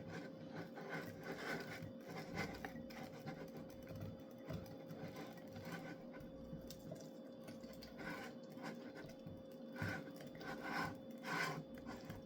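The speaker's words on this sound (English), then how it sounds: "Kind of scrape down your icky jar." Spatula scraping the inside of a sourdough starter jar, faint repeated rubbing and scraping strokes, close but quiet against a steady hum.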